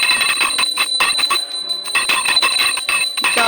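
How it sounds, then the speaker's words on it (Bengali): Small hand bell rung during an evening puja ritual at home, a continuous bright ringing with rapid repeated strikes, loud and close, pausing briefly midway before resuming. "আর ঘন্টাটা বাঁ হাতে নাও"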